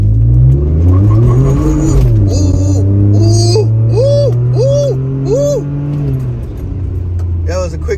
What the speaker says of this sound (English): I'm not gonna brake boost it. I'm just gonna mash on the gas.